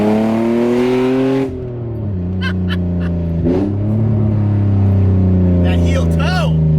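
Car engine revving in sharp blips during heel-toe downshifts, loud and close, with a steady harmonic drone between rises and a person talking over it.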